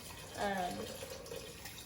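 Water poured into a soup pot for Mexican noodle soup, a short splashing pour of about a second that swells and then fades, moderately loud with no talk over it.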